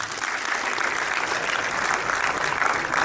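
An audience at a student prize distribution bursts into sustained applause, a dense, steady wash of many hands clapping together, loud and even throughout, with no talking over it.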